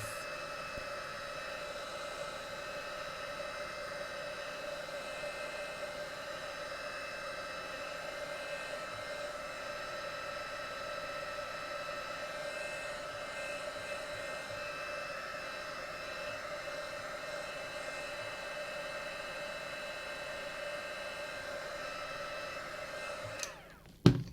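A hair dryer blows steadily to dry wet watercolour paint on a Christmas stocking sketchbook painting, a constant close whooshing hum running unbroken for over twenty seconds before switching off abruptly at the end.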